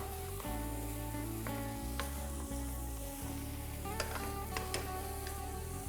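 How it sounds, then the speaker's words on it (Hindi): Kidney beans (rajma) fry in spice masala in a single pot, making a continuous close sizzle with a few faint stirring clicks over a low steady hum. No one speaks. "यहाँ पर मैं राजमे को मसाले में भून रहा हूँ"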